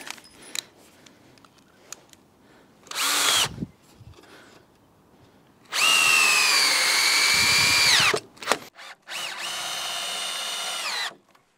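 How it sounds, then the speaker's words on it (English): Power drill driving screws into timber frames for a workshop base, heard as three whirring bursts of a few seconds each, close and loud, separated by quiet pauses and small handling clatter. "Now I can get these screwed into place."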